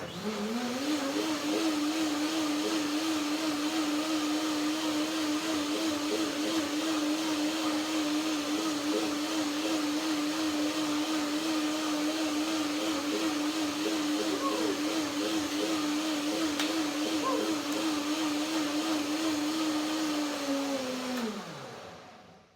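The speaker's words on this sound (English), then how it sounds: "Blender dance one more time." A blender motor whirs steadily at high speed for about twenty seconds blending hazelnuts, apple and pear, a loud continuous drone that winds down abruptly at the end.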